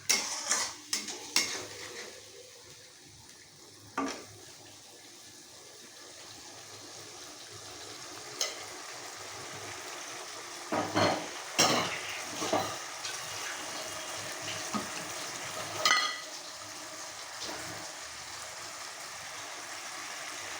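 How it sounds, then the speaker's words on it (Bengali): A spiced egg curry gravy with garam masala powder is stirred in a pan. A metal spoon clinks and scrapes against the cookware in scattered bursts over a faint, quiet background. "এইটা দিয়ে দিয়েই আমি এই ঝোলটাকে কষাবো।"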